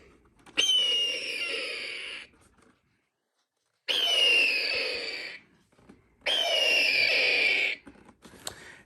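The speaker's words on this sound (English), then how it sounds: "12 o'clock is the red-tailed hawk." Red-tailed hawk call played by a 13-inch wall bird clock: three long, raspy descending screams, each lasting over a second, separated by brief silences, loud and close, with faint clicks at the end.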